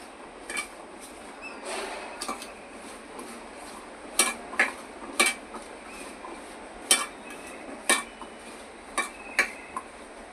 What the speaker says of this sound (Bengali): দিয়ে আলুটা মাখিয়ে নেব।